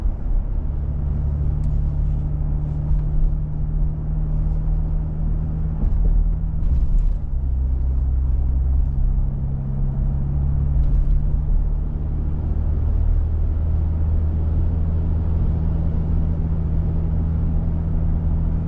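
A 2024 Nissan Frontier Pro-4X pickup truck driving steadily, its low engine drone and road rumble continuous and close throughout, with a gear change partway through.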